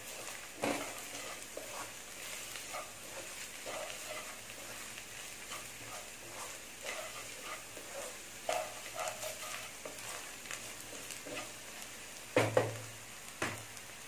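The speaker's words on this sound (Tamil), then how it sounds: "இது எல்லாமே சேர்த்து லைட்டாக வதக்கி விட்டுருங்க" Masala ingredients for stuffed brinjal are sautéed lightly in a pan, giving a quiet, steady sizzle. Scrapes and taps from a spatula stirring the pan come and go, with a few louder clatters near the end.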